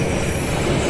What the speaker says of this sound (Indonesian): Kayak kedengaran suara kereta dari jauh.